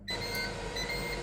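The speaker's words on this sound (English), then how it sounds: "And we've beeped." A Ninja Foodi air fryer beeps steadily in a kitchen after dehydrating apple chips, a sustained electronic tone held loud and close with no talking.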